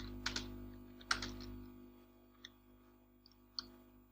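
Numeric values are typed on a computer keyboard and the enter key is pressed, a few soft clicks over a low steady hum, faint and sparse.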